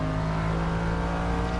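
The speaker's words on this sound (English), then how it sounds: "this number 22 Nissan, the Sumo Power Nissan, really struggling, really fighting round Schwant's corner" Number 22 Sumo Power Nissan GT1 race car working hard through Schwantz corner at Brno during 2010 FIA GT1 qualifying, its engine a loud, steady, close droning roar with a strong low harmonic tone held throughout.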